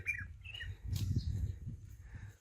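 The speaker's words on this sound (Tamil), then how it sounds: "இதுக்குள்ள குருவிகள் இருக்கும் போல் இருக்குங்க. சவுண்டு மட்டும் கேக்குது, ஆனா பார்க்க முடியல" Small birds chirp briefly from hidden cover near a temple in the hills of Ebbanad village in Ooty, with a few faint high calls over low rumbling outdoor noise.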